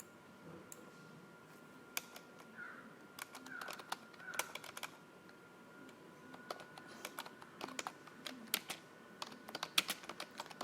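Text typed on a computer keyboard in quiet, uneven bursts of clicking keys, close by against a soft room hum, with no talking.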